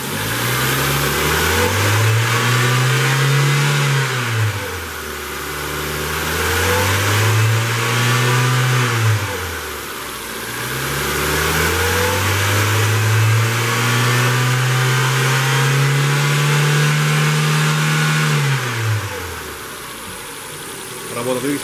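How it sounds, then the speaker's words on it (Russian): A 2005-2008 Ford Focus II car engine revs repeatedly at high rpm, its pitch climbing and falling back in about four long swells, loud and close, with a low rumble between revs. "Работа двигателя на высоких оборотах."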